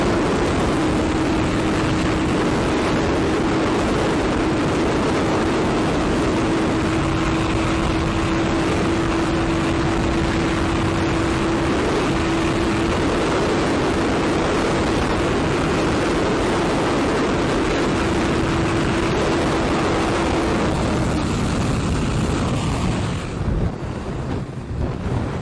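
Suzuki Hayabusa and Kawasaki ZX-12R motorcycles at about 210 mph, heavy wind roar buffeting the microphone with a steady engine drone throughout, fading near the end.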